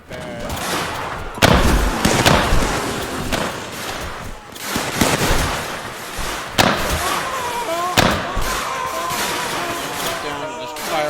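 Musket volleys crack out in the Mount & Blade: Warband Civil War mod, several loud broadband bursts rolling across a busy battlefield with continuous crackle between them and a voice talking over the din.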